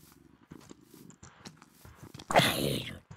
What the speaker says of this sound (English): I thought you were trying to tame a cat,